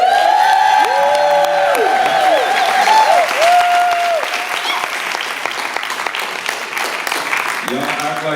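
A crowd at a Kwanzaa celebration applauds loudly, with whoops and rising shouts over dense clapping that gradually thins and softens.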